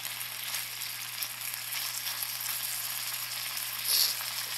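Korean beef fries in olive oil in a pan, a constant even sizzle with a low steady hum underneath and a faint brighter spike near the end, no talk.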